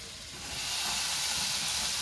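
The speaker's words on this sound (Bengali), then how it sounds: "এবার কেটে রাখা ঝিঙেগুলো দিয়ে দেবো" Chopped ridge gourd hits a pan of frying potatoes, raising a broad steady sizzling hiss that swells within the first half-second and holds loud and close.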